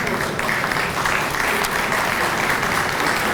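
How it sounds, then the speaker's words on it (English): Loud, close applause from an audience at a Hall of Fame induction ceremony, a thick, unbroken stretch of clapping at full strength. "Let's give them a round of applause."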